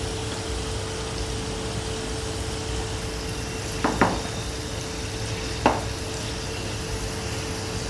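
Potato rolls frying in hot oil in a kadhai over a medium flame, a steady low sizzle running throughout, broken by two brief clinks of a utensil against the pan.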